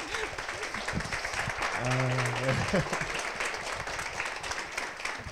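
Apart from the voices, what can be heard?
audience applause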